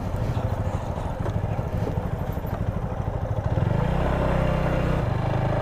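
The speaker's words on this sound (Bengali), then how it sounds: "ভাই মোটর সাইকেল চালায় আসতেছে" A motorcycle beside a small shallow river, its engine chugging with a rough pulsing rhythm and then rising to a steadier, louder drone as it draws near.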